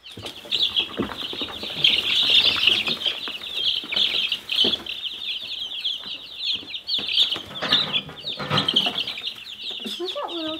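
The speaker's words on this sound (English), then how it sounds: "What's that little chicken?" Young chickens kept in a brooder on a homestead cluck and cheep continuously, a busy high chorus of chirps with some wing flapping and handling noises nearby, and a voice speaking briefly.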